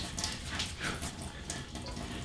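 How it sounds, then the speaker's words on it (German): A kitchen tap runs steadily while bacon dumpling dough is shaped by hand, a faint continuous splashing stream with no speech. "Ihr seht, das Wasser ist an"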